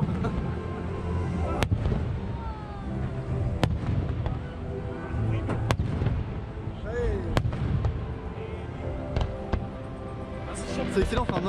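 Fireworks burst at night over Europa-Park, with sharp bangs and pops at irregular intervals over a continuous rumble and crowd noise, while people talk close by.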